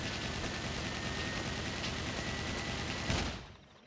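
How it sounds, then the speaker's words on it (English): A mech in the game SCUM fires grenades from two flaps on its back, loading HE, tear gas and flash rounds. A loud, dense, continuous barrage of blasts runs for about three seconds, then cuts off sharply. "those two flaps that just popped up on his back fire grenades in the forms of HE, tear gas, and flash grenades"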